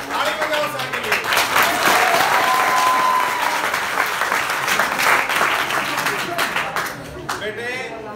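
Audience clapping loudly and steadily at a Hindi comedy show, a dense burst of many hands that keeps going for about eight seconds with crowd noise and a voice running underneath.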